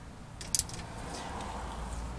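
Caliper slide pin bolts, 12 mm, being loosened with a wrench on the rear brakes of a 2006 Honda Odyssey, giving a couple of quick, faint metallic clicks and ratchet ticks close up over a low background hum.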